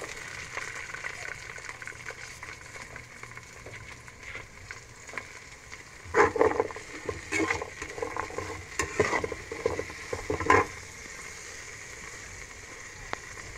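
String beans (sitaw) are added to a frying pan and stirred, giving soft sizzling with scraping and clattering stir strokes that grow busier midway before settling back to a low fry.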